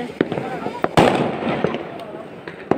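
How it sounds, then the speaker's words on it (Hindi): An anar fountain firework burning outdoors during a Karva Chauth celebration, giving a crackling, hissing spray with sharp pops and a loud burst near the middle, while people talk over it. "किसी के ऊपर भी आ जाएगा अनार बम फिर से"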